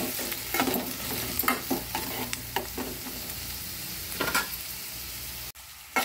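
A sprig of curry leaves crackles and spits in hot oil for a prawn curry, close and steady frying sizzle with repeated sharp pops and stirring, then a brief cut near the end.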